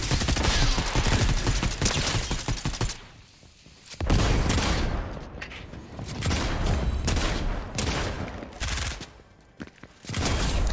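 Dense gunfire in the Fortnite video game, loud rapid bursts and volleys of shots that crackle almost nonstop, broken by a couple of brief lulls.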